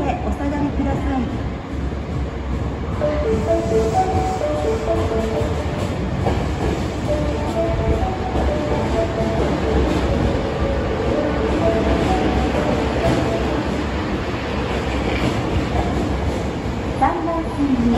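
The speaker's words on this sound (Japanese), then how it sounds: "3番線に到着の列車は19日京都河原町行きです。" A train pulls into platform 3 at a Japanese station, bound for Kyoto-Kawaramachi, with a steady loud rumble and rolling wheel noise throughout, while a station announcement voice speaks over it.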